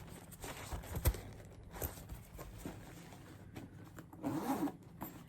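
A zipper on a Vera Bradley bag is pulled in a few short, scratchy bursts close by, with soft rustling of fabric between them.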